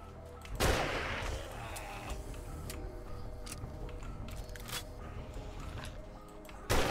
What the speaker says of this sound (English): You've been shooting a gun.